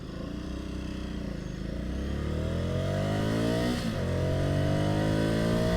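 A nearby 2020 Ducati Scrambler Sixty2 motorcycle's 400 engine revs up steadily on city streets, its pitch climbing, dipping briefly, then rising again in a loud continuous roar.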